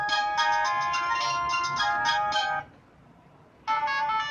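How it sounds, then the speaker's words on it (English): A Nokia 3310's Coconut ringtone plays a bright electronic quick melodic pattern, pauses briefly in near silence, then starts again, clear and close. "Then the coconut one is a good ringtone."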